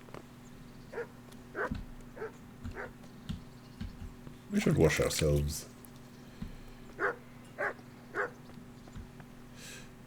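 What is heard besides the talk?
dog barking and whimpering in the video game Kingdom Come Deliverance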